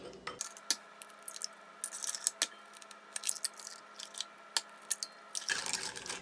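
Eggs cracked into a blender for caramel pudding: sharp clicks of shell against the container and small wet drips, sparse and close, in a quiet kitchen with no talk.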